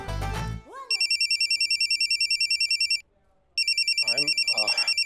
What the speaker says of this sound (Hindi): बीच में फोन बजा